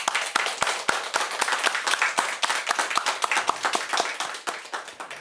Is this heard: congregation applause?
yes